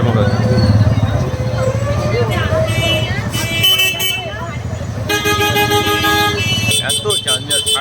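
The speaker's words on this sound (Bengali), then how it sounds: "এত গাড়ির হর্ন," Car horns honking one after another in an evening traffic jam near Bolpur, loud and close, long tones and repeated short toots over a constant hum of engines and crowd babble.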